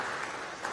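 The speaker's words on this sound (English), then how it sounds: "So I would like maybe a big applause for the different panelists here" Applause for conference panelists at a local finance session of a UCLG Congress, a brief steady patter of clapping from the room, fairly soft and lasting under a second.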